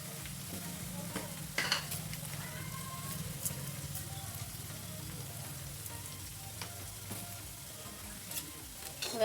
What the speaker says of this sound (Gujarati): હવે આ બધાને આપણે મસ્ત મિક્સ કરી દઈશું.